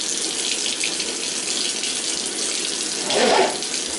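Tap water runs steadily while a child's hair is washed, a continuous broadband rush with a brief louder splash near the end.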